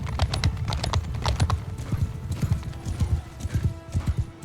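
In the video game Mount and Blade II: Bannerlord, many hooves clip-clop rapidly together, a dense rolling gallop of a cavalry troop with an occasional whinny, steady and fairly close throughout.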